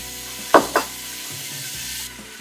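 Butter drops into a preheated pot with two quick knocks, then melts with a soft, steady sizzle.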